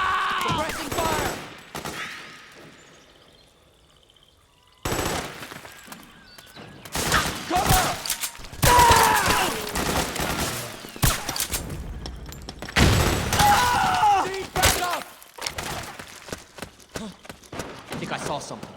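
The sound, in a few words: suppressing gunfire in the video game Metal Gear Solid 4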